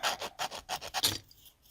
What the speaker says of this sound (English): I think I'm actually sand the edges and see how this sands.